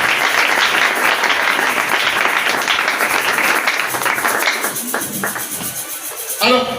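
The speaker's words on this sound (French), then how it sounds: "Est-ce qu'on peut acclamer très fort?" A church congregation at a Sunday worship service applauding loudly, dense sustained clapping that fills most of the moment before thinning out, with a few scattered voices.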